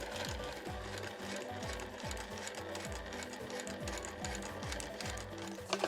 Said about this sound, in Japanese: そしたら際を縫います